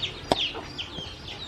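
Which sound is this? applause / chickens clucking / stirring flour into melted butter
chickens clucking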